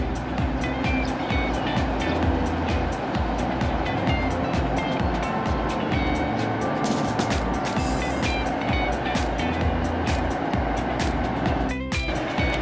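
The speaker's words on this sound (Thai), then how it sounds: "สตาร์ทเครื่องแล้วครับ น่าจะวอร์มเครื่องหรือเปล่าล้างเสร็จก็สตาร์ทเลย" A diesel-electric locomotive engine idles steadily and loudly just after being washed, with a constant deep rumble and a broad hiss filling the whole stretch and no breaks.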